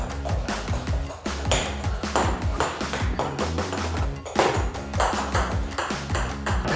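Ping pong balls bounce and tap on a table during a game of beer pong played by grandfathers, giving repeated sharp pings in an irregular rhythm with faint background voices.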